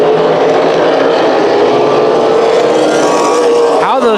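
Super late model race cars roaring around Irwindale Speedway, a loud continuous engine drone with rising and falling pitch as cars pass, with race commentary faintly mixed in.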